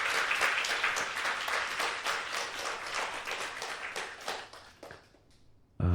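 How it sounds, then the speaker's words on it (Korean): A church congregation applauds at an ordination service, a dense run of clapping that carries for about five seconds before stopping abruptly, with a low thump right at the end. "다시 한 박수 보내주세요."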